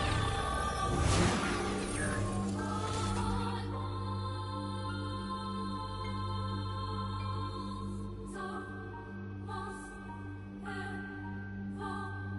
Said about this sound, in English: I love how I put everything in slow motion and now it sounds like this.